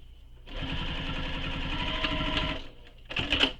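A sewing machine backstitches a seam near the D-ring on a shoulder bag, running in a steady rapid mechanical chatter for about two seconds, then pausing before a short final burst, close and clear with no talking.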